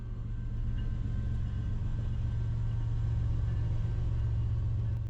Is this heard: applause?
no